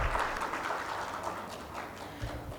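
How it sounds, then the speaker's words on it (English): A crowd at an expert panel discussion on law education in India claps steadily throughout, a dense, even wash of applause with no voices on top. "Could we please give him a huge round of applause?"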